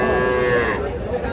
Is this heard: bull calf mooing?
yes